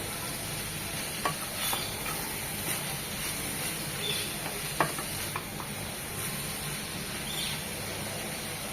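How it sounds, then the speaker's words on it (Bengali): Quiet, steady sizzling of red amaranth greens frying in a pan, with occasional soft scrapes and taps from stirring. "শাকটা তো ভাজা ভাজা করে নেব"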